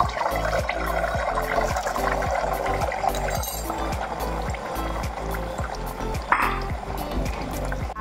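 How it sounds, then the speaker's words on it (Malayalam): Beaten eggs poured into two tablespoons of hot coconut oil in a pan, giving a steady, fairly loud wash of liquid and sizzling noise with a faint rhythmic low hum beneath, and no voices. "മുട്ട ഒഴിക്കും."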